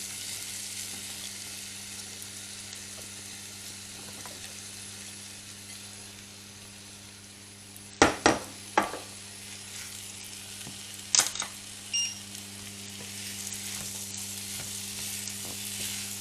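Small apple cubes fry in a pan with a steady, faint sizzle, broken around the middle by a few sharp clattering knocks, as if the pan or a utensil is moved.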